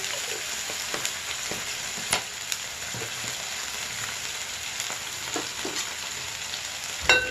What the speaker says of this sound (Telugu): పచ్చివాసన పోయిన దాకా అన్నీ వేయించుకోవాలి ఫ్రెండ్స్.